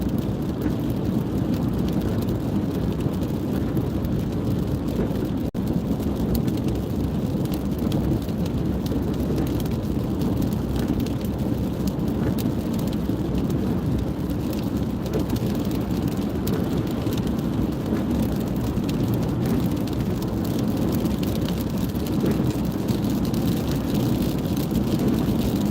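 Steady rain falls at night in Georgia, a dense continuous hiss with a low rumble underneath and no pauses throughout.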